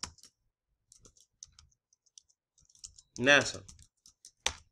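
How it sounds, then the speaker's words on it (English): Computer keyboard typing: a few scattered light clicks and taps, close and soft, broken by a short burst of a man's speech and followed by a sharper click near the end. "I'm going to type in"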